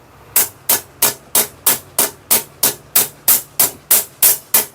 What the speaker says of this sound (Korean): 망치로